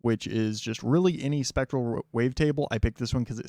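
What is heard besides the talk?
No everyday noises stand out.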